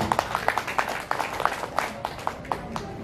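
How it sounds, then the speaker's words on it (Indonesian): Scattered, sparse clapping from a small crowd at a market traders' gathering, a dozen or so distinct claps heard at moderate distance over a low background murmur. "Tepuk tangan buat Pak Rudi"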